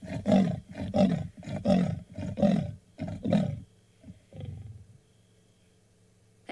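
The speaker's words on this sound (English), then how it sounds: "That is what a leopard's roar sounds like." A wild leopard on safari gives its rasping, sawing roar, a rhythmic series of about seven loud, close, hoarse strokes, then a softer grunt or two before the call dies away.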